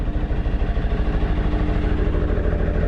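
A little tractor engine runs steadily close by, a low throbbing idle with a fast even pulse and no talking over it.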